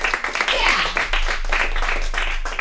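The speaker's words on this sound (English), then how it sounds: "Round of applause." A comedy show audience breaks into dense, sustained applause with a lively crowd murmur mixed in, loud and close throughout.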